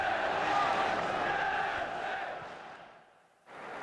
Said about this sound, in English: The crowd are getting restless, Mr. Wallace.